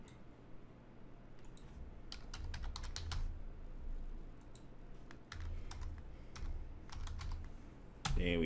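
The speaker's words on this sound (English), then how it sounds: "You know what, let's type it in." A password being typed on a computer keyboard, with quick close bursts of key clicks in uneven clusters over a low steady background hum, then a louder thump at the end.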